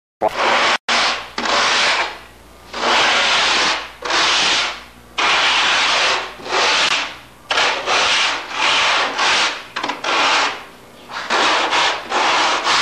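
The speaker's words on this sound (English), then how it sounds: "we're going to get a sander out with 80 grit sandpaper" Hand-sanding with 80 grit sandpaper rounds a crisp edge on an aircraft canard, a loud close rasping in rhythmic back-and-forth strokes with short gaps between them.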